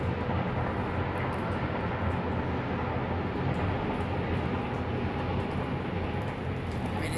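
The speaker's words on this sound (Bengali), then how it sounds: "আর এদিকে ট্রেন যাচ্ছে" A train passes near a house in a hilly part of Italy, heard as a steady, unbroken broadband rumble that holds a constant level throughout, with no talking.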